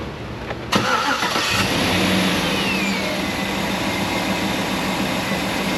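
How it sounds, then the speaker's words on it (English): A GM 5.3 V8 truck engine cranks briefly and catches, then settles into a steady, loud idle rumble that continues to the end. "let's start this engine"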